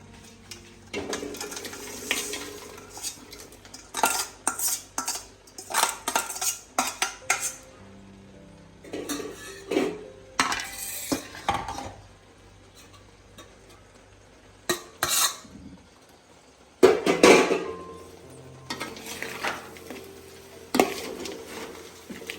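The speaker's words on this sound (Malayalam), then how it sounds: "ഇനി നമ്മൾ വറുത്ത് വെച്ചിരിക്കുന്ന മീൻ ഇടുകയാണ്" A spoon scrapes and clatters in a pan as fried anchovies are stirred into masala for a fish pickle, in irregular bursts of metallic knocks between quiet pauses, close by, with a faint sizzle beneath.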